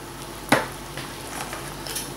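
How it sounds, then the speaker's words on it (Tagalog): Chicken binakol soup stirred in a pot, with one sharp clink of the spoon against the pot near the start over a steady low simmering hiss, alone without talk. "So, haluin lang natin."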